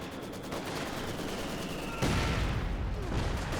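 A gun fires at a short-barrel Panzer IV in Company of Heroes, a sharp burst of game gunfire with a louder impact at the midpoint over continuous battle noise.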